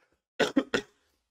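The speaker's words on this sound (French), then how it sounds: "j'en tousse carrément" A man gives three quick coughs in close succession, close and clear, with silence before and after.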